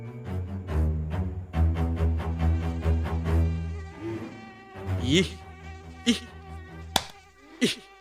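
Mosquito whine, a thin harmonic buzz holding steady for several seconds, then breaking into scattered sharp clicks and short squeaks near the end.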